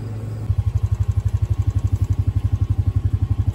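A Honda 500 side-by-side engine fitted with soundproofing on a test ride, a loud, close, steady pulsing engine drone with regular throbbing beats throughout.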